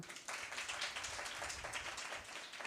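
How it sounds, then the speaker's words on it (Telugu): Church congregation clapping loudly together, a dense, steady burst of many hands that starts abruptly and carries on evenly in a reverberant hall. "గట్టి చప్పట్లు కొడదామా"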